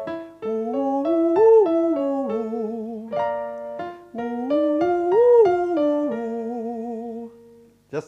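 A singer demonstrates soft, hooty high notes, sliding between sustained pitches with gentle vibrato. The voice is clear and close, and there is no accompaniment.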